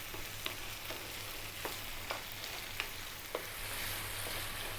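Fresh ripe tomatoes cook down in a pan for a Greek beef and tomato stew (kokkinisto), giving a steady faint sizzle and bubbling with scattered soft pops and a low hum, with no talking.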